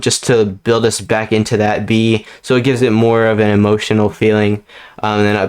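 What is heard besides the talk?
No distinct noise like a dog, phone or traffic.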